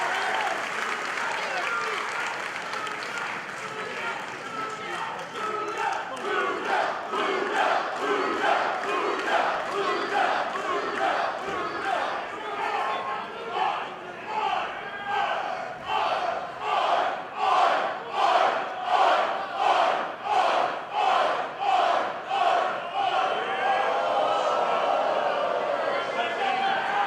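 A capacity crowd at an All Pro Wrestling match roars and applauds, then breaks into loud rhythmic chanting with regular pulses that build toward the end.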